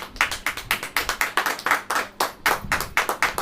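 A church congregation at a Hindi sermon clapping hands, crisp rapid claps in an irregular, energetic rhythm, close and fairly loud with no voices over them.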